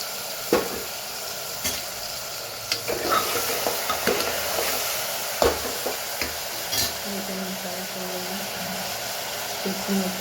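Vegetables frying with spices in a pan, a constant close sizzle broken by scattered clattering knocks of stirring.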